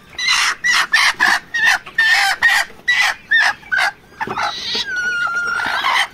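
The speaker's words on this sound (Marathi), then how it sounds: "या आपल्या कोंबड्या खोड आलेल्या आहेत, अंडी घालत आहेत" Laying hens in a poultry shed, loud nearby clucking and squawking calls in a quick run of repeated bursts, then a longer drawn-out cackle, with no talk.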